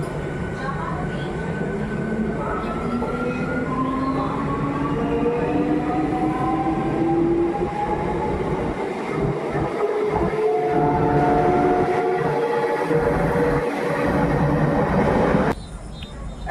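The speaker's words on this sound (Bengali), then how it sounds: "ওদিকে ট্রেন দেখুন এখন যা" Train running past a station platform at night, a loud steady rumble and rolling wheel noise with squealing metallic tones, close by for the whole stretch, easing off at the end.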